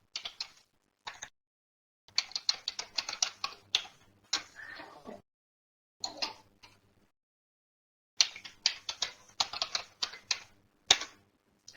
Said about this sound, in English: Helps if I type the password correctly.